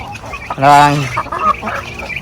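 A loud, brief honking fowl call rises close by among heritage chickens, Rhode Island Reds and Black Australorps, with faint background noise around it.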